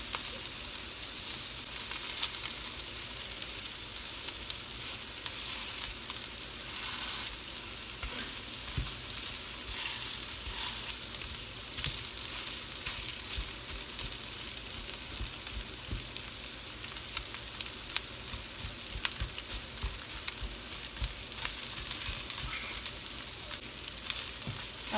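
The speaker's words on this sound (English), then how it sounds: "it's time for me to add the bully beef. Just going to use a spoon and break it up." Jamaican corned beef (bully beef) fries in a pan, sizzling steadily and crackling while a spoon breaks it up with occasional soft scrapes and taps, with no talking.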